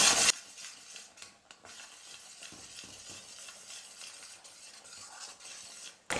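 Ground coconut being stirred constantly in a pan for a sweet, a quiet scraping and soft sizzle with occasional clinks of a spoon against the metal, louder clatter at the start and end, no voices.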